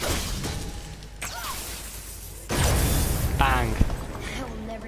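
Objects shatter in God of War: several whooshing swings and sharp breaking crashes, with one louder burst near the end, all over a dense, steady game background.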